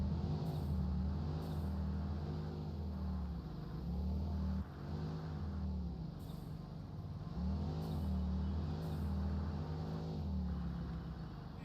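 The Explorer vehicle from Satisfactory rolls along with a steady, loud engine drone and rumble, swelling and easing as it revs and changes speed throughout, with no talking.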